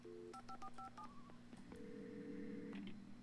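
A telephone being dialed in the video game Alan Wake: a quick run of clear DTMF keypad tones in a short rhythmic series, followed by a longer steady tone, faint and isolated without speech.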